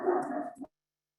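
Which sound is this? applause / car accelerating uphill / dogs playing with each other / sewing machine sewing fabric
dogs playing with each other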